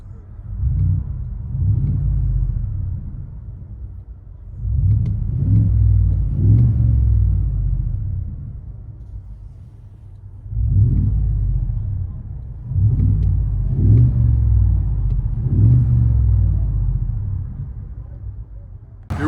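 A 2021 Ford F-250 XLT with a 6.2-liter V8, Borla ProXS exhaust and quad 5-inch tips, heard from inside the cab, revs in several deep, loud rumbling bursts separated by idle lulls.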